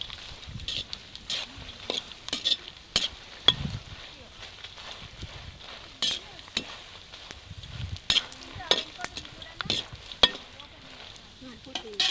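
Mustard seeds and cumin sizzle in hot oil, a constant crackle broken by sharp pops and spatters, with a voice speaking over the frying.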